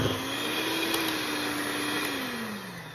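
Electric hand mixer beating cream cheese frosting for carrot cake, a continuous loud motor whine holding one pitch, then easing slightly toward the end.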